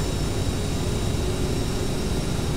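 A CRJ 700ER jet on its takeoff roll in the Prepar3D flight simulator, giving a steady, loud, broadband engine roar with a high turbine whine, continuous and without talk.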